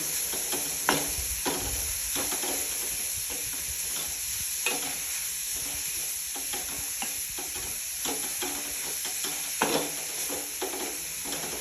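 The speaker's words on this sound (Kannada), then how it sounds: "ಎಣ್ಣೆಯಲ್ಲೆಲ್ಲ ಚೆನ್ನಾಗಿ ಬಾಡಿಸ್ಕೊಂಡ್ಬಿಡಬೇಕು ಒಗ್ಗರಣೆಯಲ್ಲಿ" Grated sweet pumpkin sautés in hot tempering oil for a Karnataka-style gojju, a steady close sizzle broken by frequent scraping stirs of a spatula against the pan, with no voices.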